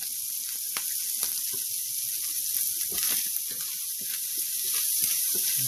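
Sausage frying in a thick-bottomed pan, a steady bright sizzle with frequent small pops and crackles, close and continuous with no talk.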